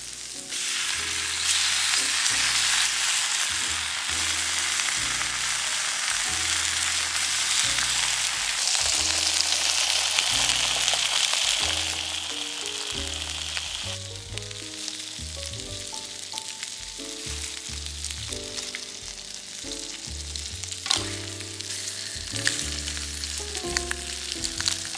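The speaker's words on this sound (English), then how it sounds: "Yeah, we'll put our bacon on as well." Bacon, sausages and onion fry over an outdoor campfire, with a steady, dense sizzle and crackle that continues throughout. Low thumping and shifting sounds run underneath, and no one speaks.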